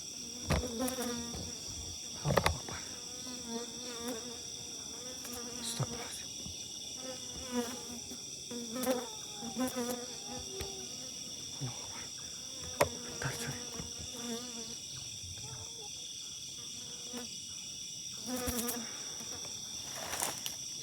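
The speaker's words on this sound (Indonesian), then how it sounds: "Kayak ada hewan kayak lebah ini." Buzzing of bee-like insects fills an outdoor spot, a steady drone with a high insect hum throughout, insects passing close at moments, no speech.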